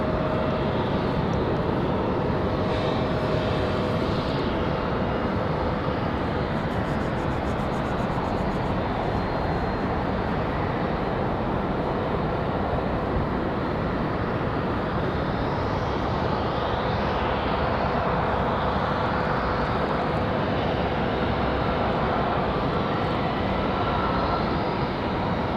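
A Frontier airliner taxis toward departure at Raleigh-Durham International, its jet engines a loud, sustained drone with a faint steady whine that swells slightly midway, alone without speech.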